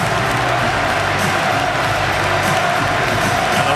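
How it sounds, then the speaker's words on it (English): Crowd in a hockey arena at the 2015 IIHF World Championship applauding and cheering, a continuous roaring wash of claps and voices with a busy, reverberant texture throughout. "And the Canadians join in that applause."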